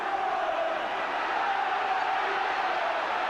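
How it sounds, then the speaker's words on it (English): A West Ham football crowd at a match against Manchester United roars steadily, a dense and continuous wall of cheering that holds loud and even throughout, with no individual voices standing out. "Roared on by the West Ham crowd"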